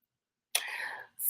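A single short, breathy cough or throat-clear bursts out of silence, followed by the start of another.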